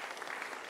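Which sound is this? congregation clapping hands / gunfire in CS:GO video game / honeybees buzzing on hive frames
congregation clapping hands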